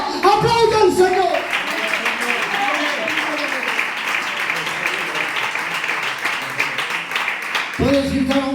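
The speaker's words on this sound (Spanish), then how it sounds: "Si quieres tener victoria, victoria, victoria, aplauda al Señor." Church congregation clapping in sustained, dense applause under a preacher's amplified voice, with singing or speech tones over the crowd noise.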